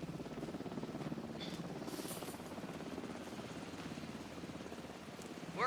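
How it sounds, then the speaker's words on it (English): A helicopter in the video game Alan Wake 2 drones steadily throughout with a continuous low rotor-like rumble at moderate, even loudness, with no talk. "Here, helicopter."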